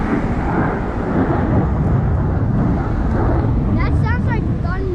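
Jet roar from an air show flyover along the Ocean City, Maryland waterfront, a loud continuous thunder-like rumble filling the clip while voices chatter over it.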